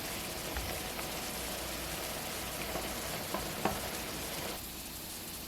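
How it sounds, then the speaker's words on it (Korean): Marinated tofu poured into a hot pan sets off a steady, even sizzle and crackle that fills the whole stretch, with a few faint clinks over it before it softens slightly at the end. "맛있게 양념이 잘 배인 두부도 모두 부어줄게요."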